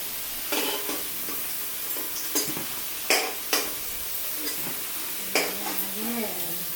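Potatoes fry in oil in a pan with a continuous sizzle, broken by several sharp spatula scrapes and clinks as they are stirred, close and fairly loud.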